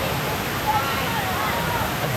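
Steady broadband roar of Kuang Si waterfall near Luang Prabang, Laos, loud and continuous with a faint murmur of voices mixed in underneath.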